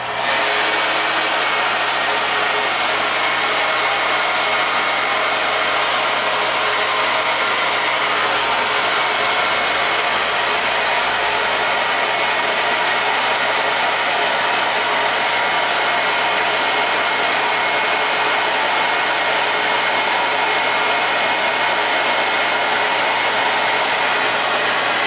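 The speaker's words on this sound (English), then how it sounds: "right now I'm going to show you how to do this with the hair dryer" A hair dryer runs at full power heating shrink wrap onto a wine bottle, giving a loud, steady, close whooshing roar with a constant motor hum that lasts about twenty-five seconds.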